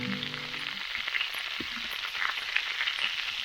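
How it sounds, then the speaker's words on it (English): Bacon sizzles in a pan on a camp stove on a South Downs Way hike, a faint, steady crackle with scattered pops over low background hiss. "Now get the bacon on."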